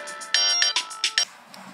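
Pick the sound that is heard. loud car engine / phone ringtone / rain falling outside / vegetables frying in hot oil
phone ringtone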